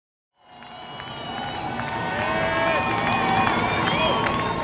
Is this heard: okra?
no